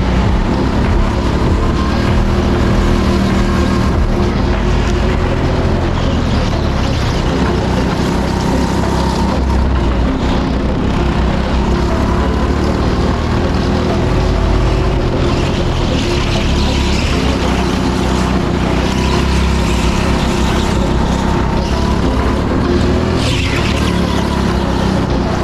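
Go-kart lapping an indoor circuit at Teamsport Edmonton in North London, a steady loud engine drone running the whole time with rising and falling revs through corners, with no talking.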